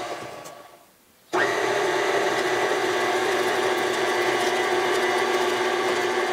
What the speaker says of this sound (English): You're going to want to use the regular mixer blade. And then beat this for 10 minutes.